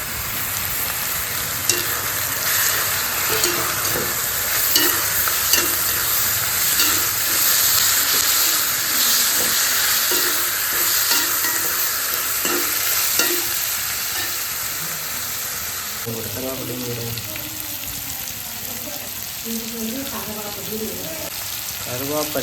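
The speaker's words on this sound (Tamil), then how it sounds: "கருவேப்பிலை, பச்சை மிளகாய், வெங்காயம் எல்லாத்தையும் வதக்கி போட்டு அதோட கொஞ்சம் இறாலையும் சேர்த்து சோறு சமைக்க போகிறோம்" Curry leaves, green chilies, onions and shrimp sautéing in a pan: a loud, continuous sizzling hiss with repeated stirring scrapes, growing slightly quieter near the end.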